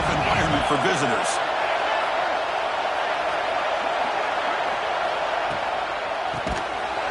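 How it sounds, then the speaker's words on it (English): Football stadium crowd roaring in a steady, dense wash throughout, with a commentator talking over it during the early going of a game in a hostile road environment. "Listen to the crowd energy here in the early going."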